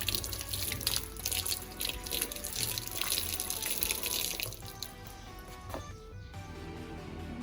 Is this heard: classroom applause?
no